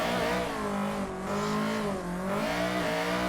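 A drift car in Formula Sim Drift bouncing off its rev limiter, a loud, sustained buzzing engine note with stuttering cuts that dips twice and climbs again, mixed with faint tire squeal.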